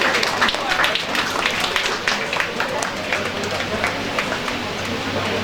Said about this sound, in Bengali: একটু জোরে হাততালি দেওয়া সবাই